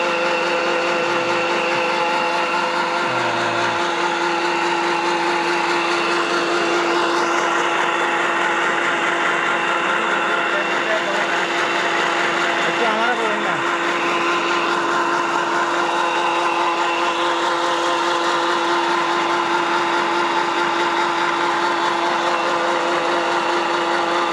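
An animal feed making machine runs without pause, a loud, steady mechanical drone with a strong motor hum and rough grinding texture, close up and unchanging for the whole stretch, with no talking.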